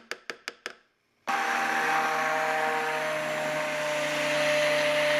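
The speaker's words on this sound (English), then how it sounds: "Now I'm going to take my stick blender to this in a minute" A stick blender whirs steadily while mixing warm hot process soap, preceded by a few quick taps, then a loud, continuous motor drone that holds for several seconds.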